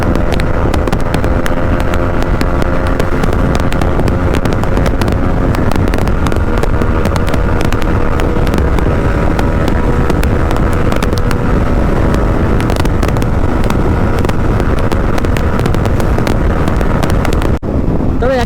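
A 155cc motorcycle ridden at full throttle along an open highway, its engine droning steadily and loudly throughout with heavy wind rush buffeting the microphone, continuous and unbroken.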